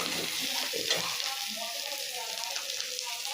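Ground mustard paste frying in a pan, a steady close sizzle and crackle with soft stirring scrapes throughout.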